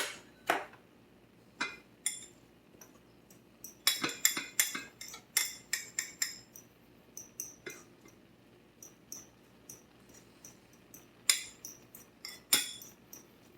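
A utensil chopping up an egg in a pan for shrimp fried rice made with riced cauliflower, giving sharp metallic clinks and taps in irregular clusters, close and fairly crisp.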